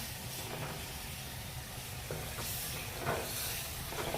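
Tomato dal dhokla mixture sizzling steadily in a pan with a little added water, broken by soft scraping stirs of a spoon, close and continuous throughout.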